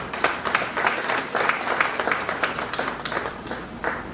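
An audience claps and applauds at a party rally, a dense burst of many hands that stays steady for a few seconds, close and fairly loud, with no voices heard over it.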